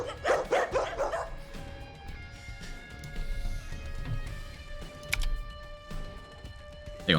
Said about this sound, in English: That's the dog noises we're talking about.